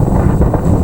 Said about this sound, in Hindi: हल्दिया पश्चिम बंगाल की तस्वीरें जहां पर तेज हवाएं साफ तौर पर सुन सकते हैं